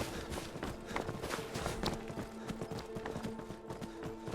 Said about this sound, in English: I'm outrunning your flipping horse.